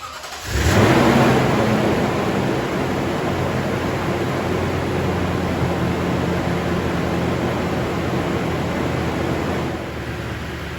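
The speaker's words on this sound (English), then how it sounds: "So let's get the truck started and let's check out this battery isolator" A truck engine is started after installing a Badland Apex 12k winch, giving a brief crank that catches into a loud steady idle hum, which continues evenly for about ten seconds and eases slightly near the end.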